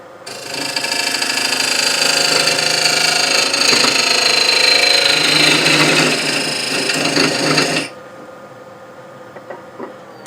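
A wood lathe rough-turns an uneven Palo Santo wood blank, a loud continuous whirring and cutting hiss for about eight seconds that stops abruptly, leaving a faint hum and small knocks.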